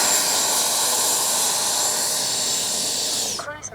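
A Freewing 90mm Eurofighter Typhoon RC electric ducted-fan jet flies past with a loud, steady hissing whine that cuts off abruptly near the end.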